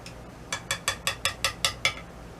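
Spoon stirring a Mediterranean lentil salad in a bowl, giving about eight evenly spaced clinks and scrapes, fairly close and moderately quiet, with no voices.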